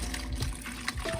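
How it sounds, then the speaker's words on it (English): Chicken broth pours through a sieve as a soft, faint liquid trickle and splash, brief and uneven, with a few small clinks. "now what we're gonna do is we're gonna pour our chicken broth"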